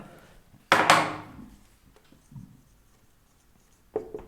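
Pen scratching a goal onto paper, a sharp close scrape followed by quieter scattered strokes and a final brief stroke, in a quiet room.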